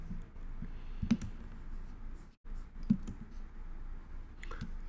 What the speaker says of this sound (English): Now I'm going to click on these while holding down Shift on the keyboard.